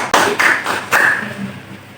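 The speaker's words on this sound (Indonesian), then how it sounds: "Tepuk tangannya mana?" A short burst of classroom applause from students, a few sharp claps at the start, then settling into a softer, fading patter with no talking.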